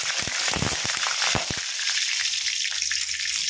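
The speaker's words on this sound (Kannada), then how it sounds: "ಈರುಳ್ಳಿ ಫ್ರೈ ಮಾಡ್ಕೊಳ್ತೀನಿ" Sliced onions hit hot oil in a pan for hotel-style chicken sambar, giving a sharp burst of crackling and sputtering that settles into a steady, close sizzle.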